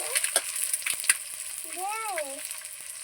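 Onions and green chillies fry in oil with a close, continuous sizzle and occasional stirring clatter; a faint tonal whine rises and falls briefly toward the end.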